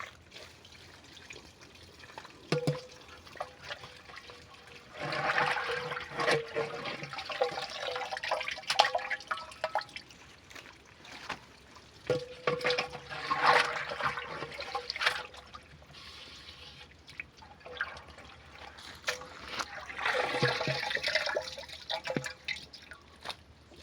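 Running water and drips while something is washed by hand, intermittent splashing and trickling in several louder bursts over a steady low background, with no talking.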